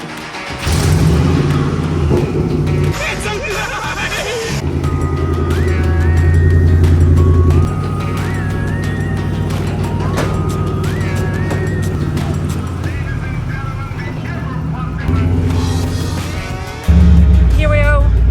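Ford car fitted with a Saleen supercharger, out on its first test drive after a limited-slip differential rebuild and fresh differential fluid; loud engine and drivetrain roar rising and shifting through gears, with a supercharger whine, and people talking throughout.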